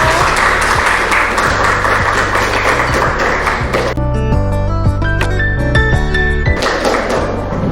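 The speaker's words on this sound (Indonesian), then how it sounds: "beri tepuk tangan buat kelompoknya." Classroom applause for a student group after their presentation, loud clapping for about four seconds over steady background music, then the music carries on alone with a few softer claps near the end.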